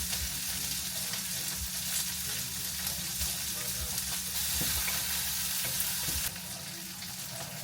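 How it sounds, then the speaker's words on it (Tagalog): Sausages and onions frying in a pan, giving a steady, close, loud sizzle that runs the whole time with faint stirring. "niluluto ko na yung sausages para kay kuya kasi gusto niya yung may onion"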